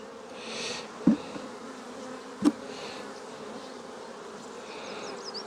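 Honey bees buzz softly in an open hive crusted with propolis, a colony that may be without its queen; the low, steady hum runs throughout, broken by two brief knocks.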